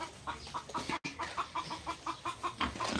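A hen clucks repeatedly after laying an egg, a rhythmic run of close, moderately loud clucks with one brief gap.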